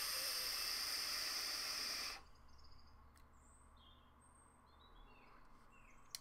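Vapor drawn through a HorizonTech Falcon sub-ohm tank with airflow fully open: a steady, close airy hiss for about two seconds, then stops, leaving faint room noise with a few soft chirps.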